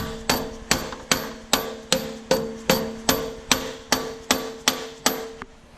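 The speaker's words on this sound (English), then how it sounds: "Smack this on with a rubber mallet." A rubber mallet strikes a coilover part on a 1990 Eagle Talon TSi AWD Turbo about fourteen times, in steady, evenly spaced, close, solid whacks.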